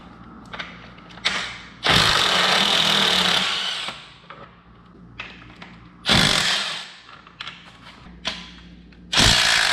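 Power tool driving Torx bits to remove the subframe bolts from a wrecked 2014 Yamaha R1 motorcycle, heard as several loud close whirring bursts of varying length, separated by ratcheting clicks and quieter pauses.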